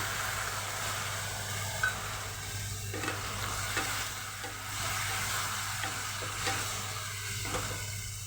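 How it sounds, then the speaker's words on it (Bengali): Onion and spice paste sautéing in a pan for an egg curry, a steady low sizzle with occasional soft scrapes of stirring, fairly quiet and continuous throughout. "মশলাটার সঙ্গে পেঁয়াজটার সঙ্গে এবার আমি কষাতে দেব"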